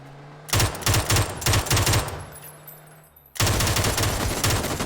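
An MK47 Mutant rifle fires 7.62 rounds in PUBG: a quick run of closely spaced, loud shots, a short quiet pause, then another sustained string of rapid shots.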